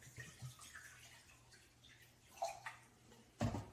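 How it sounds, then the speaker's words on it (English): White vinegar pours into a jar at home, a faint, close trickle and splash of liquid with a couple of louder gurgles and a brief clink near the end. "Now I'm going to add 8 more ounces of white vinegar"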